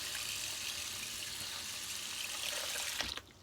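Meat rinsed under a running kitchen tap, a steady hiss of flowing water into a sink that stops abruptly near the end.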